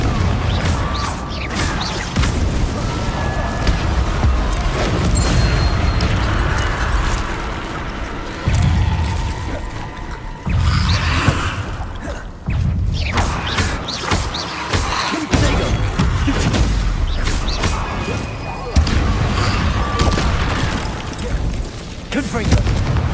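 Repeated fire-blast spell explosions in the Hogwarts Legacy video game, loud booming bursts recurring throughout amid dense combat effects, with shouted voices in between.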